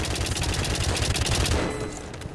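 Rapid automatic gunfire in the video game White Knuckle, fired at a turret as a loud, continuous rattling burst that cuts off near the end, leaving a brief fading tail.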